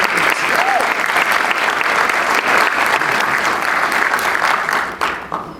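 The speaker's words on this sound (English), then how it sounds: "Please give Congressman Davis a great round of applause." An audience gives Congressman Davis a full, loud round of applause at a Chicago gathering of Black and Jewish leaders, dense continuous clapping that tapers off at the end.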